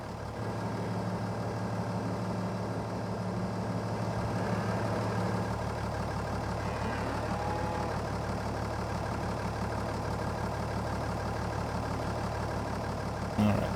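A tractor engine idles steadily on the track, a low continuous rumble with a faint mechanical whine, close and unchanging throughout.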